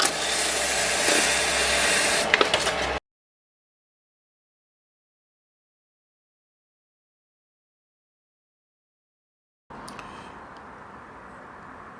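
Sandpaper rubbed by hand over wood gives a steady, close, dry rasping for about three seconds, then a long silence, then quieter rubbing resumes near the end.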